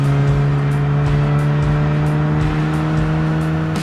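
A VW GTI Rabbit Edition drives along with a steady, loud engine drone close by. The engine note stays strong and even throughout, and no one speaks.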